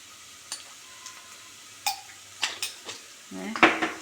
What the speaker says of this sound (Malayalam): മഞ്ഞപ്പൊടിയുടെ ആ പച്ച മണമൊക്കെ ഒന്ന് പോണ വരെ വഴറ്റുക